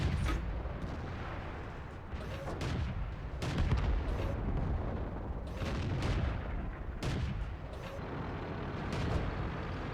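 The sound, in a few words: tank cannon shots in World of Tanks video game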